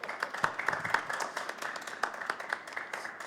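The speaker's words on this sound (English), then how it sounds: "round of applause" Audience applause following a theatre panel introduction, a steady patter of many hands clapping at moderate distance, with a few sharper individual claps standing out.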